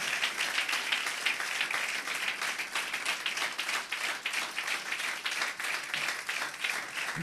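Steady, dense applause from a congregation at a Christmas worship service, honoring Jesus Christ; many hands clap together continuously at moderate level, with no talk.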